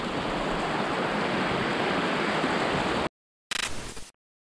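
Bulusukan Falls pours with a steady, dense rush of water for about three seconds, then cuts out briefly, returns in a short burst and goes silent again.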